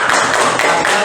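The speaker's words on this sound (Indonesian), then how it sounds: "tepuk tangan untuk kelompok satu" A classroom of students gives a brief, loud burst of clapping for the first group, a quick ragged patter of hands lasting about a second.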